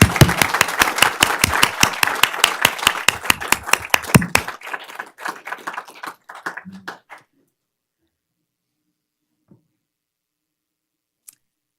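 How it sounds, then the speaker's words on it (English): A school board meeting audience applauds for about four seconds of dense, loud clapping, which thins into scattered claps and fades to silence, with a couple of faint isolated taps afterward. "Now we give everyone a big round of applause."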